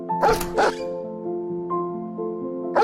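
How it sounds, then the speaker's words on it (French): Dogs bark twice in close succession early on, loud and near, followed by a sustained tonal background with faint soft knocks. "Pourquoi les chiens aboient-ils comme cela?"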